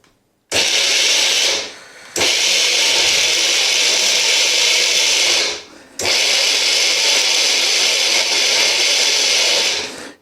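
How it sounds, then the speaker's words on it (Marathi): An electric mixer grinder whirs loudly as it grinds dry fruits for ragi ladoos. The high-pitched motor runs in three sustained pulses, each separated by a brief pause as it winds down and restarts. "हे सर्व आपण ड्रायफ्रूट आता मिक्सरमध्ये बारीक करून घेणार आहोत"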